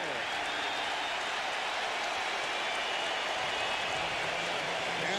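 Crowd at a 1999 NBA playoff game between the Milwaukee Bucks and Indiana Pacers in an arena, a dense, loud, steady roar of cheering and chanting filling the whole stretch without a break.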